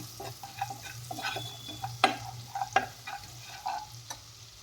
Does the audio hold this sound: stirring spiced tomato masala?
yes